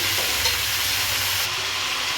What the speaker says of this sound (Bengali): সবজিগুলোকে এবার কিছুক্ষণ ভাজা ভাজা করে নেব